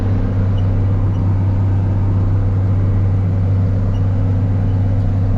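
A John Deere 7930 tractor pulls a manure spreader in 5th gear across a no-till field with cover crop, giving a steady, loud, close diesel drone with a strong low hum that holds even throughout, without speech.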